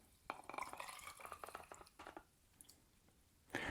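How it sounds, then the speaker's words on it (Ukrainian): A shot of espresso is poured into a glass of tonic water, giving faint, quiet liquid drips and splashes with soft trickling in short bursts. "І до цього чудового сполучення додаємо шотик еспресо."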